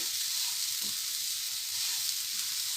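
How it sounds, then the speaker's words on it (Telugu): Milk and coconut barfi mixture stirred steadily in a hot pan, giving a continuous close sizzling hiss with faint scraping strokes and no talk. "ఇలా కలుపుతూనే ఉండాలి లేదంటే అడుగంటుతుంది"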